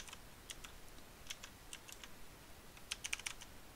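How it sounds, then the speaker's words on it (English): Light keystrokes on a computer keyboard in short scattered bursts, ending in a quicker flurry of taps, close but quiet and with no talk. "I'm going to type in"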